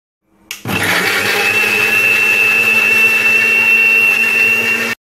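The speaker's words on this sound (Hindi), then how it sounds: "और अभी मैं इसे ग्राइंड कर लूँगी पहले" Electric grinder pureeing six quartered tomatoes for homemade ketchup, starting abruptly and running as a loud, steady motor whine with a high tone for about four seconds before cutting off.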